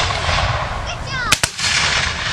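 Two sharp, loud musket shots crack in quick succession as Civil War infantry reenactors fire by files during an outdoor Battle of the Crater demonstration, with a steady outdoor background hiss.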